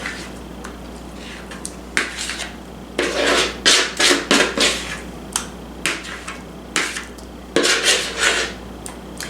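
A potato and cheese mixture is scraped and spread into a baking dish, giving a run of short, close clinks and scrapes of a utensil against the dish, with no talking.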